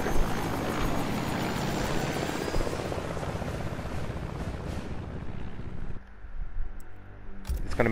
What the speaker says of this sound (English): Ah, him going back into the helicopter.